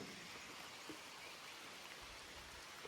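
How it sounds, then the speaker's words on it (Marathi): Steady monsoon rain falling in Konkan, a soft continuous wash of drops with no voices, even and moderately distant throughout. "पावसाला सुरुवात झालेली आहे कोकणामध्ये"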